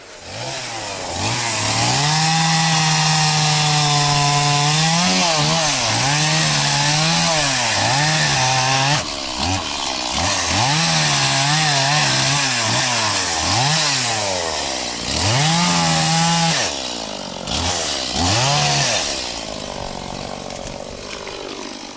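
A chainsaw cuts through wood at a wild taiga riverside camp, loud and close, its engine whining steadily and dipping in pitch as it bites into the log in repeated cuts with no one talking.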